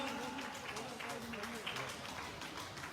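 Crowd applause rolls steadily at a school award ceremony honouring a NEET topper and presenting cash prizes, a dense unbroken clatter of many hands mixed with a voice speaking over it.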